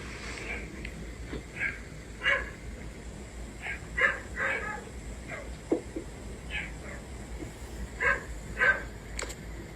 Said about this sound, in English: started hearing the dogs barking outside